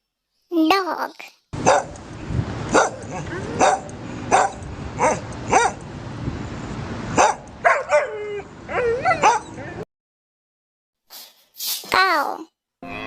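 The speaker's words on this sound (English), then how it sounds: "Dog." Dog barking in a quick series of sharp, close barks over a steady noisy background, then yips and whimpering whines, a pause, and a few more short yelps.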